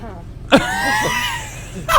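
A short, sharp throat-clearing burst near the start, followed by a sustained voiced sound and another brief rasp at the end.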